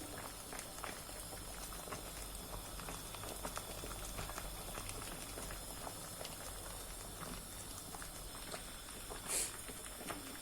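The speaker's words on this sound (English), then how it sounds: "So we allow this ogbono to cook for another extra 10 to 15 minutes" A pot of ogbono soup simmers on the stove, giving a steady close bubbling and gentle spattering patter that runs unbroken, with a brief louder pop near the end and no voices.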